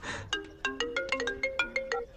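A phone ringtone plays a bright, melodic electronic tune of quick, evenly spaced notes, loud and close, for about two seconds.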